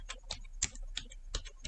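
Quick, close taps on a computer keyboard, several light keystrokes in an uneven burst, alone in a quiet room.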